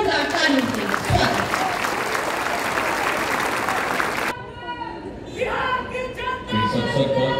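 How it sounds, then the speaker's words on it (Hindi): Audience giving loud applause to welcome a speaker at a government event in Bihar on the expansion of PMCH hospital, dense clapping for several seconds that cuts off abruptly, followed by someone speaking over a PA. "करतल ध्वनि से आप लोग स्वागत करें, जोरदार तालियों से स्वागत।"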